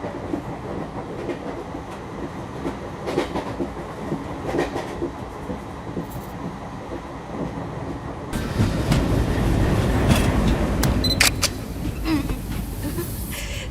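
A train arrives at a station with a continuous rumble and rolling clatter of wagons, growing louder and denser partway through, with faint squeals and brief bangs near the end.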